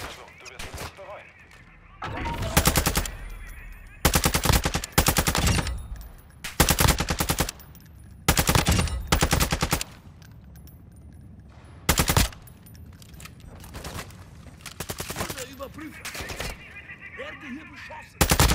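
Bursts of video game gunfire crack in repeated loud volleys, several automatic strings separated by short quieter gaps, with faint background game sounds between them.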